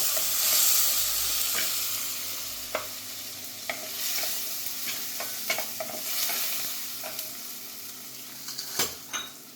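Chana dal hits hot oil in a pan with whole chillies, sizzling loudly and steadily while a spoon stirs and scrapes, tapping the pan now and then, close up with no talk.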